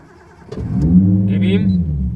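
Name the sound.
Nissan Skyline R33 GTST engine starting up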